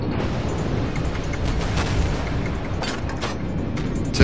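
Naval guns on the Tier 2 Japanese cruiser Chikuma fire in World of Warships, a dense, steady rumble of heavy booms. The blasts roll on without pause and turn louder at the very end.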